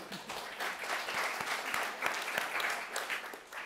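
A talk audience breaks into applause, a steady dense clatter of many hands clapping, distant and quiet with slight swells in loudness.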